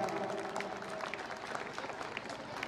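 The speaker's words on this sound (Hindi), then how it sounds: "एक बार जोरदार तालियां" Applause from an audience at a government school Republic Day event on 26 January, a steady patter of many hands clapping at moderate level, dense and continuous throughout.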